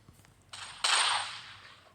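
Gunfire in the video game Killers vs Sheriffs: a short crack followed by a louder, sustained burst of hissing shot noise that slowly fades, with no talking.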